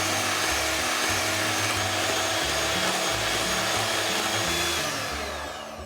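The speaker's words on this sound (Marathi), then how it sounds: "आपण आता बीटर घेऊया आणि 5 मिनिटं बीट करायचं आहे" Steady, loud whirring drone of an electric beater whipping oil, powdered sugar and vanilla essence in a bowl, running continuously and fading slightly at the end.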